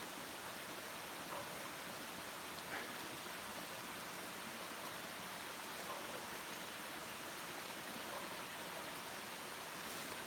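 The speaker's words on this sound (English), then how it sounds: "Here's the waterfall." Steady, faint rushing of a waterfall in an outdoor setting on a fine day, a continuous even hiss of falling water with no other sounds.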